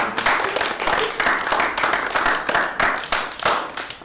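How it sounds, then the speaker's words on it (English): A small audience claps at a writers' reading event, close and fairly loud, with a pulsing rhythm of individual hand claps that stays even for several seconds. "One more round of applause"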